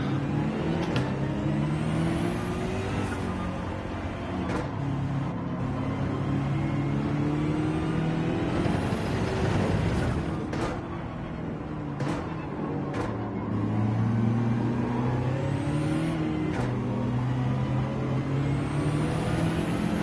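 Race car engine in Gran Turismo 7, revving and shifting through a lap with pitch swells and drops under braking, steady and fairly loud with no talking.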